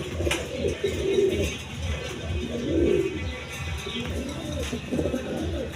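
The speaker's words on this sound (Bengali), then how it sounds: "এখানে দুইটা নর কবুতর আছে আপনার জার্মান বিউটি কবুতর" Male German Beauty pigeons coo nearby in repeated throaty rolls, several calls spaced across a few seconds, set against a busy, murmuring background.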